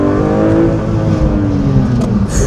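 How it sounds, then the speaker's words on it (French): Porsche 911 S/T engine revving hard on track, a loud close rising wail climbing through the revs then easing off, with a brief sharp burst near the end. "Oh, comment il prend les tours, le moteur."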